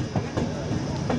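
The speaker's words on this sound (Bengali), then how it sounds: "ট্রেনটা ঢুকছে" A train pulls into a station on a rainy monsoon hill route, a steady rolling rumble with faint rail clatter heard from aboard, continuous and moderately loud throughout.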